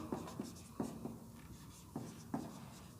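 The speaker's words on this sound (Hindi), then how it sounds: "यहाँ पे मैं लिखती हूँ" Chalk or marker writing on a board during a grammar lesson, several short scratchy strokes in irregular rhythm, faint and close with no talk over them.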